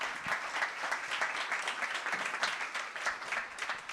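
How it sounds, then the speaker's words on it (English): An audience gives a steady round of applause for the panelists at a resilience science-to-solutions conference session; the dense clapping holds at an even level for the full four seconds with no talk over it. "One more round of applause for the sharks,"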